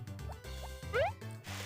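Crops being watered in the farming game Harvest Moon Back to Nature, with a few short liquid splash and drip effects over steady background game music.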